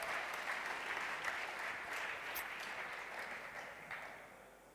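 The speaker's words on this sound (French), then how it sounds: "On peut les applaudir encore une fois." Dense, steady audience applause at an awards ceremony for e-commerce, a broad wash of many hands clapping that holds for the whole stretch and tapers slightly near the end.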